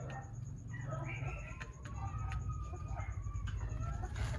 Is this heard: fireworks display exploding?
no